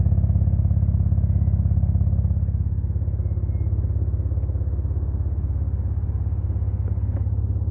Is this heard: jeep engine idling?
yes